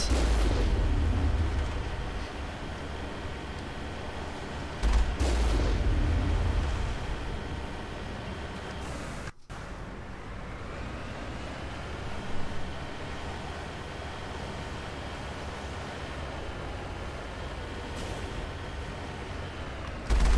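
Enemy gunfire at a mercenary camp in the Mass Effect video game: heavy, rumbling bursts of shooting and booming blasts in two loud surges near the start, then a steadier, duller barrage continuing in the background.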